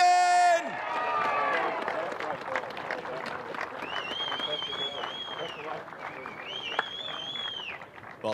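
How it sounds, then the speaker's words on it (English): Crowd applause and cheering for the winning GT4 drivers on the podium at Hampton Downs, a steady clapping wash with a whistling voice and an announcer's talk over the top. "Be generous in your applause."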